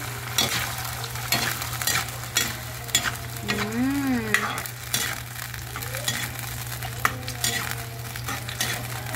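Smoked fish (tinapa) and taro are sautéed in a pan, with a low continuous sizzle and the scrape and clink of a utensil stirring, close by, with a steady hum underneath.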